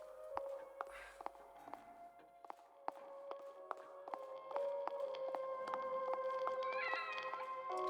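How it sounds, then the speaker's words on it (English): A cat in The Evil Within video game, soft meows over a game soundscape of steady rhythmic taps and footsteps with a sustained tonal hum, fairly faint and with no talk. "It's the kitty!"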